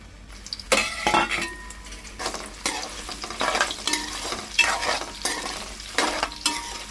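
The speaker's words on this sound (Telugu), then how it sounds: "ఇప్పుడు మనం మిల్ మేకర్ వేసుకొని ఫ్రై చేసుకోవాలి." Meal maker soya chunks frying in hot oil in a pan, a steady sizzle broken by repeated scraping and stirring strokes of a metal spoon, with occasional light clinks against the pan, close and moderately loud.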